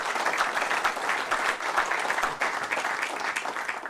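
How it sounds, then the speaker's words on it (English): An audience at a spring banking forum gives a sustained round of applause, dense and even clapping filling the room from start to finish with no break. "Let's give these folks another round of applause"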